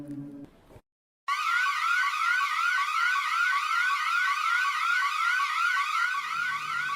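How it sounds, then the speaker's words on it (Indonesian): A loud electronic bank alarm wails continuously in a rapid rising-and-falling warble, starting abruptly after a brief pause and holding steady. "suara alarm berdentum pecah. Suaranya datang langsung dari bank."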